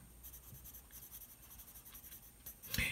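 Colored pencil shades on paper for comic art: soft, quiet scratchy strokes repeat in a steady rhythm, close and faint, ending with a louder scrape.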